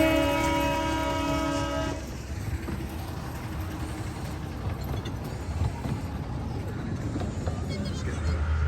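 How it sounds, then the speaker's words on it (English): A diesel train approaches on the River Esk heritage railway, with a sustained horn blast at first, then a rumbling engine and rolling wheel noise that hold steady and close throughout. "Right, the diesel is approaching."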